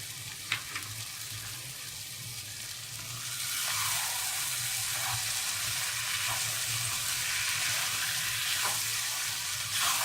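Green chillies, crushed spices and fenugreek frying in a pan for fry daal mash, a steady sizzle that swells louder after a few seconds and continues evenly, with a few faint clinks of stirring.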